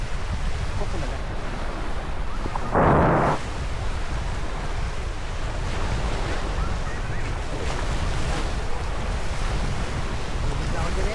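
Continuous wash of ocean surf on White Beach, Cebu, with heavy wind buffeting the microphone and a brief louder gust or splash near the start.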